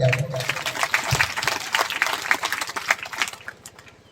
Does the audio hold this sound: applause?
yes